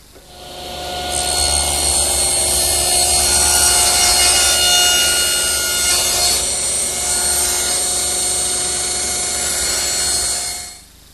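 A power saw cuts a tongue-and-groove wooden board at a 15-degree angle, a steady high whine with a buzzing edge that runs about nine seconds up close and then winds down, with no talking.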